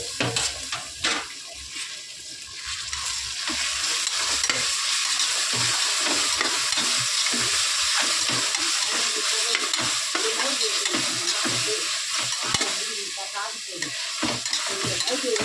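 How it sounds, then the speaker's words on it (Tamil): Onions and tomatoes sauté in hot oil in a kadai, giving a continuous close sizzle with scraping stirs throughout. "இந்த சைடு பார்த்தீங்கன்னா உப்புமாவுக்கு தேவையான வெங்காயம் தக்காளி வதங்குது"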